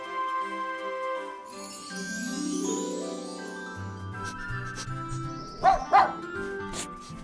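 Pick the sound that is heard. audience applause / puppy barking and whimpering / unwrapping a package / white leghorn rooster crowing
puppy barking and whimpering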